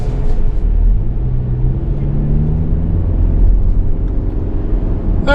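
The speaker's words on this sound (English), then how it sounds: "we're going down the road in this 25 Camry SE with the front wheel drive" A 2025 Toyota Camry SE with front-wheel drive cruises down a road, giving a steady, close interior rumble of engine and tire noise with a faint rising hum, no voices.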